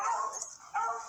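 A dog gives a short, high yip-like bark, brief and moderately close, with a second short yelp after a pause.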